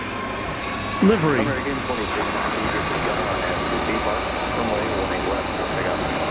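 Low, steady jet-engine rumble of an all-white ABX Air 767 taxiing at an airport at night, heard at a distance beneath a voice talking over it.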